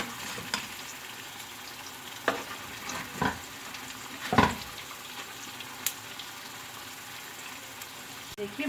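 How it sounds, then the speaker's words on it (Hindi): Dahi bhalla lentil dumplings frying in hot oil give a faint, steady sizzle with a few sharper pops and stirring clatters scattered through, and no talk over it. "भल्लों को हम पलट देंगे, दूसरी तरफ से भी फ्राई कर लेंगे अच्छी तरह से"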